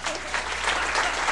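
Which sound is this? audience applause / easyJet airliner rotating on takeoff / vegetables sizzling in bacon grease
audience applause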